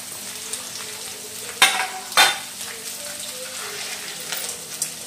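Green chilies, onions and curry leaves fry in a pan for upma, with a soft steady sizzle and two sharp crackling bursts as ingredients hit the oil.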